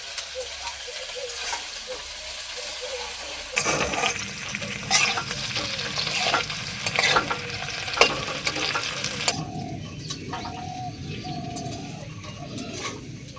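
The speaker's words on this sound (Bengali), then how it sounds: "আলুর সঙ্গে সিমগুলোকে কিছুক্ষণ ভেজে নিলাম" Potatoes and flat beans fry in a pan for a spinach and vegetable ghonto, with a steady sizzle and repeated scraping stirs. The stirring grows busier after the first few seconds.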